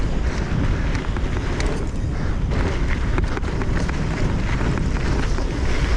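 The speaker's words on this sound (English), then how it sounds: "A little windy, but" Steady wind buffeting a microphone during an e-bike ride, a constant low rumble with no pauses and no talking.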